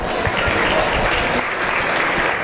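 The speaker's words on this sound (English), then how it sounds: "Let's give him a nice round of applause" A crowd at a swine show gives a round of applause for a young exhibitor with a breeding gilt, a dense, even burst of clapping filling the arena without a break.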